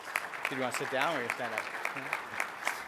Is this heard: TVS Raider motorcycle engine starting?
no